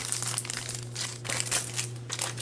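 Rhinestone stickers are peeled off a PET sticker sheet up close, giving loud crinkling and crackling plastic sounds in uneven bursts over a steady electrical hum, with no speech.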